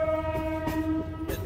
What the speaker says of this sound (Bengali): আমাদের ট্রেনটা এখন কমলাপুর রেল স্টেশনকে ছেড়ে চলে যাচ্ছে সামনের দিকে